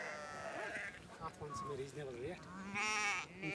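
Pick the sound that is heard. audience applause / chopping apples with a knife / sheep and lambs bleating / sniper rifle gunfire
sheep and lambs bleating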